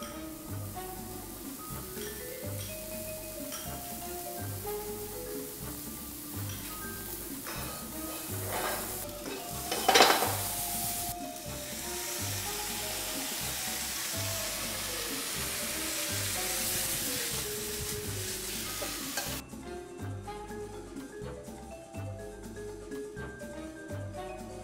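Bulgur being stirred and mixed in an oiled pan, a steady sizzle under continuous scraping and stirring strokes, with a brief louder clatter partway through.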